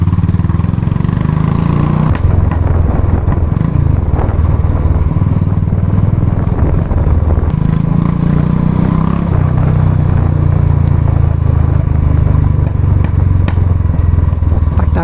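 A 2019 Royal Enfield Classic 350 motorcycle idles and revs with its exhaust thumping loudly and close, a steady deep engine pulse with a few throttle swells and no talk over it.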